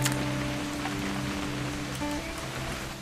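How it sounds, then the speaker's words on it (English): Steady rain falls in the video game What Remains of Edith Finch, a continuous close hiss of drops across the whole stretch, with faint low tonal hum underneath and no talking. "It's gonna rain the whole weekend, isn't it?"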